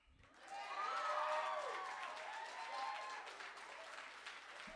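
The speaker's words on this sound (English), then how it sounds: "Keep that applause going," An audience at a poetry slam applauds warmly, swelling quickly and holding steady with a few cheers and whoops mixed in before fading.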